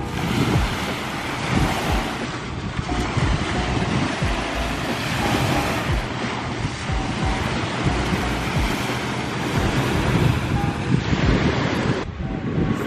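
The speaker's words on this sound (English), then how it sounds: "We are chilling on the beach." Ocean surf rolls steadily onto a beach, a continuous wash of waves under heavy wind buffeting the microphone, loud and constant throughout.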